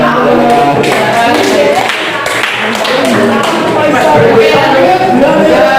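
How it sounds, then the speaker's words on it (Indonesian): A classroom audience gives a group applause after a speech in an Indonesian language lesson, with loud, close, dense clapping and thumps that continue steadily alongside talking voices. "Tepuk tangan"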